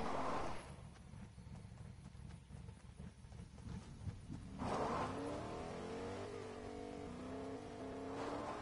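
A truck engine drives in the Fortnite video game, a continuous motor drone that shifts in pitch as it revs, heard without talk over it.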